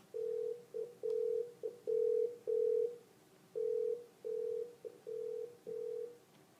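A Polycom SoundPoint IP 650/670 desk phone rings with a repeating electronic ringtone, a series of short clean beeping tones in quick bursts with small pauses between groups, clear and alone.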